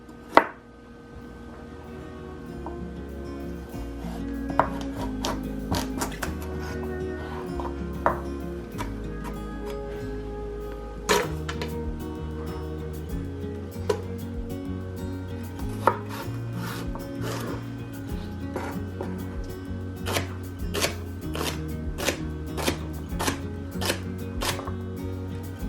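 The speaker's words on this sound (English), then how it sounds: "we're going to cut up 1 medium-sized carrot" A knife chops a medium carrot and celery ribs on a cutting board, sharp distinct knocks coming in irregular bursts and quickening runs, close and fairly quiet, with a low musical backing underneath.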